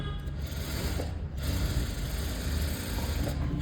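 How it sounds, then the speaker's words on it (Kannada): A sewing machine runs steadily, stitching the border of a blouse, with a continuous close mechanical whir and rapid needle rattle that briefly dips about a second in, then resumes without pause. "ಇಲ್ಲಿ ನಾವು ಸ್ಟಿಚ್ಚನ್ನು ಹಾಕ್ಕೊಂಡ್ರೆ ಆಯಿತು."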